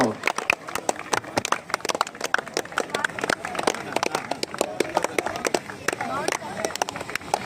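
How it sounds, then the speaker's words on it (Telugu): A crowd at a kabaddi tournament final in Venkatagiri claps hard and fast in a dense, irregular patter of sharp hand claps close by, with people talking over it. "గట్టిగా చప్పట్లు కొట్టాలండి, గట్టిగా."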